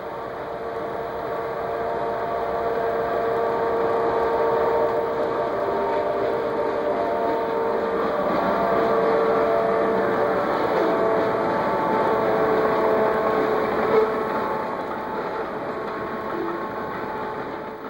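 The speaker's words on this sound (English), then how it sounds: "showing a train moving along the side of a mountain" A model train runs on a club's mountain-and-lake layout with a continuous mechanical hum and whine and a few tonal lines, swelling slightly in the middle and easing off toward the end, with no talking.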